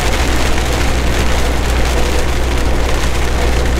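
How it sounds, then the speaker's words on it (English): Rain drums steadily and loudly on a moving semi truck, a dense unbroken patter over a low rumble of road and engine noise, close up and with no pauses. "Looks like we're starting to rain again."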